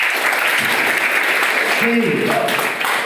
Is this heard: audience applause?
yes